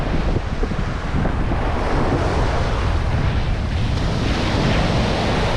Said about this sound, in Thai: คลื่นก็ปกตินะครับ ไม่ได้แรงมาก แต่ก็มีลมเย็นดีนะ